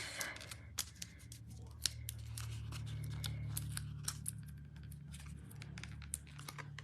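Adhesive foam dimensionals are peeled off their backing sheet in a quiet craft session, giving soft, close, intermittent ticks and small tearing snaps over a faint low hum, with no talking.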